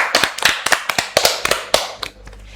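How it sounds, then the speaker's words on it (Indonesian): Clapping for young guests on an Indonesian school talk show, a series of distinct sharp claps in an uneven rhythm, close and fairly loud, that tails off quickly with no voices over it. "Yuk kita beri tepuk tangan buat bintang tamu kita hari ini."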